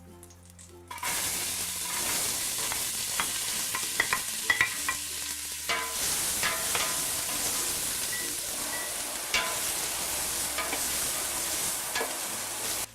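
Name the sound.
onions sautéing in olive oil in a pot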